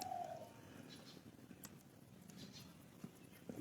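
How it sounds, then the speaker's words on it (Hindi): A single soft coo from a pigeon opens the quiet outdoor scene, followed by faint, scattered bird chirps and light patter far in the background. "पक्षी बोल रहे हैं"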